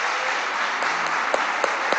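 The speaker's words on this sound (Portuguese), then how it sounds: "Eduardo Suplicy, salva de palmas" Audience applauding a guest at a critical-thinking forum event in Fortaleza, Brazil: steady dense clapping from a crowd throughout, fairly even in level with a few sharper individual claps standing out near the end.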